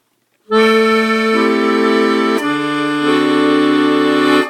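A Stradella bass accordion sounds a sustained D dominant seventh chord with an augmented fifth added on the right-hand keys, bass and treble held together loud and reedy, shifting voicing partway through, played alone.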